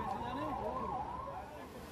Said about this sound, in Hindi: तेज आवाज वाले सायरन